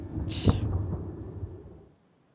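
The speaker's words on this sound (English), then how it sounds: "it's making lightning sounds like the tree's gonna collapse again in the vault" Thunder rumbles in Virtual Towers Online: a low rolling boom with a brief sharp crack near the start, fading out over about two seconds with no other sound.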